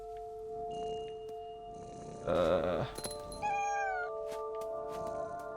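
A cat meows in the video game What Remains of Edith Finch, one loud drawn-out yowl and a shorter high cry over a steady droning game soundtrack.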